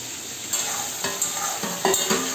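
Prawns frying in hot oil in a pan, a continuous bright sizzle with a few scraping stirs of the utensil, close and alone with no talk.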